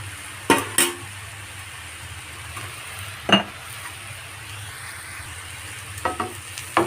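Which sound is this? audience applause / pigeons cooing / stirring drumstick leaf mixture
stirring drumstick leaf mixture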